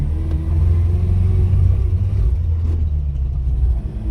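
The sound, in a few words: two-stroke car engine running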